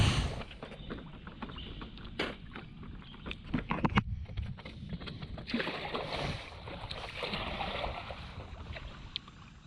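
A boat arrives back at a marina in Thailand, with water sloshing and hull noise close by and scattered knocks and clatter throughout, no voices present.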